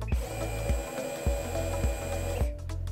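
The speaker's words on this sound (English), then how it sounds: "You can now take the tool off safety" An orthodrive surgical drill runs in short, even bursts, whirring steadily with a faint rhythmic click about twice a second before it winds down to stop. Nobody speaks.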